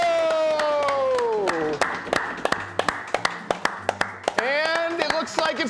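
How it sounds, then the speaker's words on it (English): Audience applause at a live bonus checkpoint drawing: steady clapping of many hands, loud and close, with a voice talking over it at the start and again near the end. "Let's clap it up with this last name."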